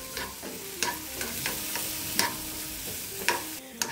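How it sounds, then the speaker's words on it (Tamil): Strained banana stem being sautéed in a pan, with a spoon scraping and stirring at a steady rhythm over a soft, continuous sizzle, close and clear with no talking. "நல்லா வடிகட்டி இதில் போட்டு நல்லா வதக்கிக்கலாம்."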